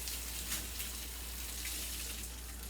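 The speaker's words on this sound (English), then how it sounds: "Now we're really rinsing." Steady rushing water rinses a dog during a bath, a continuous close splashing flow from a tap or sprayer with no talk over it.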